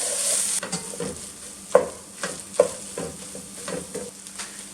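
Tomato paste being stirred into a sloppy joe mixture in a pot, a spoon scraping and knocking with a few distinct clunks over a steady low simmering hiss.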